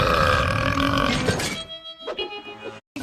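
A cartoon character lets out a long, loud, deep burp that fades into quieter grunting sounds before a brief silence.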